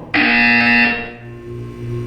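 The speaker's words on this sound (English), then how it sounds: "When you hear the buzzer, look up at the ceiling." A buzzer sounds in the video game Portal 2, a loud harsh tone starting abruptly and holding for about a second before cutting off, leaving a low hum.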